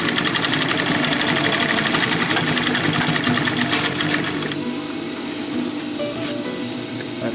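A sewing machine stitches webbing onto a tacticool utility pouch, a loud rapid rattling run that stops about two thirds through, leaving quieter room sound and a few faint clicks.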